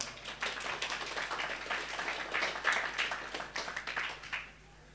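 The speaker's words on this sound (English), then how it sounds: "So give yourself a round of applause." Applause from a class audience after capstone project presentations: a steady wash of many hands clapping for about four seconds, moderately loud and even, then quickly tapering off to quiet.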